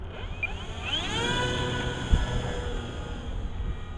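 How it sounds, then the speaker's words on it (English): A radio-controlled airplane on a 6S 5200mAh 100C lipo battery makes a quick stall takeoff at full throttle in strong wind, its motor whine rising sharply in pitch and holding loud and steady with wind rumble beneath. "we're going to have to do a real quick stall takeoff"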